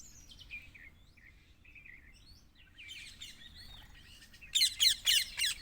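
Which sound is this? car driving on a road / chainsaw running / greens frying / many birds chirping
many birds chirping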